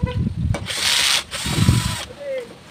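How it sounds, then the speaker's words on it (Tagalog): A power screwdriver removes screws from a mini electric fan, with short whirring bursts broken by pauses and clicking handling noises, close up. "tanggalin po natin yung tornilyo din, eh"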